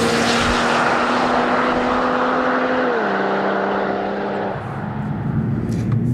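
A 2020 Toyota GR Supra with 340 PS runs hard at high speed, around 180 km/h. Its engine drones as a steady tone that dips in pitch partway through, then fades into road and wind rush. No one speaks.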